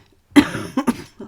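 A short burst of coughing, three or four quick rough coughs close to the microphone, with quiet pauses between.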